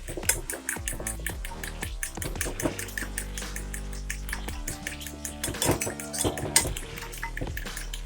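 Whisking two eggs until frothy in a bowl, with quick rhythmic clinking of a fork or whisk against the dish, loud and close, continuing steadily without talk.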